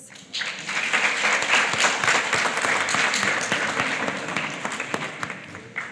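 Schoolchildren and parents in a hall applaud at a primary school Grade 7 prize giving ceremony, the clapping bursting in after a brief pause and holding full and loud before thinning slightly toward the end.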